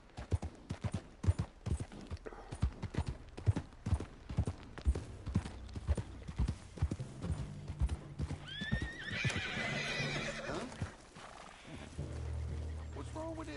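In the Red Dead video game, a horse's hooves clip-clop in a quick, loud rhythm, then the horse gives a shrill, drawn-out neigh, followed by a low rumble.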